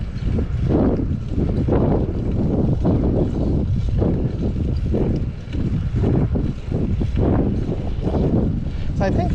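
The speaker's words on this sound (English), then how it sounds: "We're going into the wind now." Steady heavy wind roars into the microphone on a seaside sidewalk at Mustang Island, Port Aransas, Texas, a loud continuous buffeting rumble with gusts rising and falling throughout.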